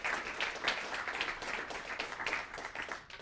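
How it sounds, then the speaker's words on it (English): Audience applause, a dense steady patter of many hands clapping at moderate distance, sustained throughout. "please give a warm round of applause to Beth Fisher-Yoshida."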